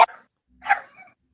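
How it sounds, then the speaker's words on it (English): A dog gives a few short, sharp barks or yips, close and loud, separated by brief silences, with no talking. "Sounds like a dog."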